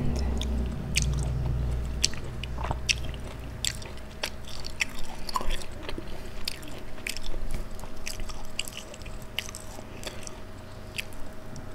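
Small bites and wet chewing of a juicy cutie mandarin, with a run of soft crunches and squishy mouth sounds, close and quiet over a steady low background hum.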